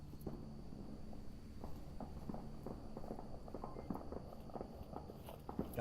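Footsteps in the VR shooter Onward thud in a steady rapid walking rhythm on a hard surface, fairly quiet against faint background noise.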